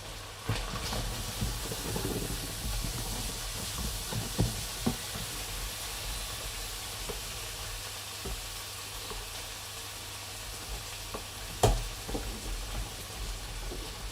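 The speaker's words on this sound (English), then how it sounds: "I can hear from the pan where my bacon is frying" Bacon frying in a pan gives a low, quiet sizzle with scattered pops and crackles, plus a few louder clicks and knocks along the way.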